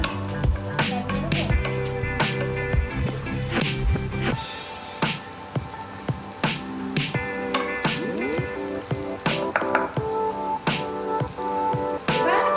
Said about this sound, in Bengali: আবার কষিয়ে নেব।